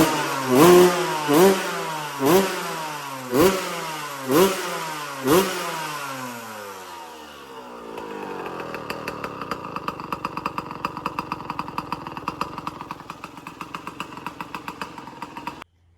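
Suzuki RM125 two-stroke motorcycle engine, being built and running rich, fires a few separate loud pops before settling into a steady, buzzing idle that continues alone and fairly close.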